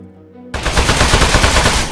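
Loud rapid automatic gunfire in the Aperture Desk Job video game, a dense burst of shots striking metal that erupts suddenly after a brief quiet moment and continues without pause.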